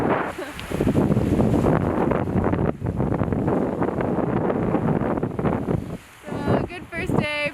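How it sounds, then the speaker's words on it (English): Strong coastal wind buffets the microphone on a sea kayaking trip near Hogan Island, a loud, gusty roar that rises and dips throughout, with brief lulls and some talk mixed in. "as you can see it's a little bit windy right now."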